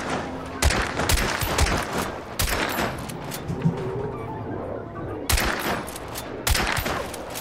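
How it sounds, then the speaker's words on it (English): Gunshots in the video game Hunt: Showdown, loud sharp reports with echoing tails, several cracks spaced out over the span, the last two close together, amid ambient game noise with no talking. "Two shots on him."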